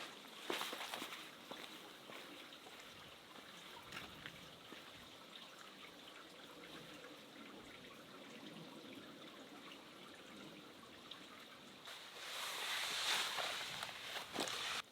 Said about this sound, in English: Pretty cool little creek down here.